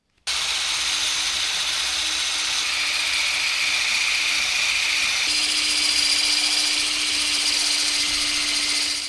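A power tool spins an eraser wheel to strip lap sealant off a camper roof. It gives a steady, loud, high whine that holds without a break, close by and alone.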